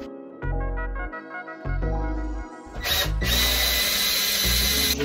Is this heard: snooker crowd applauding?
no